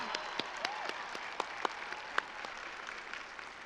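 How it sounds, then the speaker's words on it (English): Applause from a graduation ceremony audience for the 2016 class, a steady wash of clapping with a few sharper close claps standing out, moderately loud and continuous with no talk over it. "They deserve a big round of applause."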